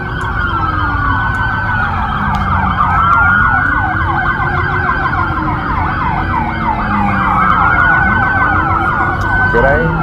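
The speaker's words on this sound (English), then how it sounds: "All right, that's a lot of sirens." Many police car and emergency sirens wail at once on the streets of Bayside, Miami, overlapping rising and falling tones sounding loud and continuous throughout, with traffic rumbling beneath.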